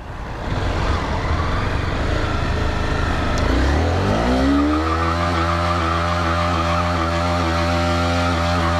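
A motorcycle's rear tire skids and squeals on a road, a loud rough scrape that gives way to a steady droning engine tone with rising and falling pitch.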